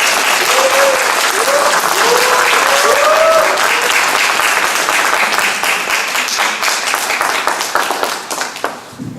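An audience at a teachers' seminar on economics education applauds a teacher coming forward, with dense, steady clapping that fills the room. A voice is briefly heard over it early on, and the applause thins out and fades near the end.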